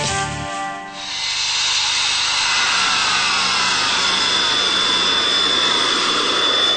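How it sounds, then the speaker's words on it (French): Fighter jet passing over a national road in Switzerland, a loud roaring hiss that swells and holds steadily, broad and overpowering, heard alone without voices. "Un avion de chasse qui traverse une route nationale."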